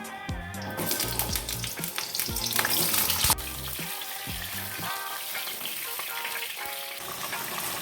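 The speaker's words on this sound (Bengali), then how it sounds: "কড়াইতে সর্ষের তেল দিচ্ছি। হালকা করে ভাজবো, বেশি ভাজবো না। তেলটা গরম হয়ে গেছে, পটলগুলো দিয়ে দিচ্ছি।" Pointed gourd pieces fry in hot mustard oil in a wok with a loud, steady sizzle. Clattering stirs and scrapes come in the first half, then an even hiss continues alone.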